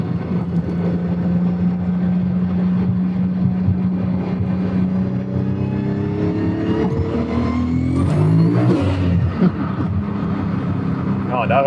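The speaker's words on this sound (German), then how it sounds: "Da hört man jetzt halt, wie er so leicht anfängt durchzudrehen, ne? Aber trotzdem noch nach vorne geht." Volkswagen Golf turbo engine under hard acceleration, a sustained loud droning pull that rises in pitch with a brief tyre-spin flare near the end, recorded from inside the car while people talk over it.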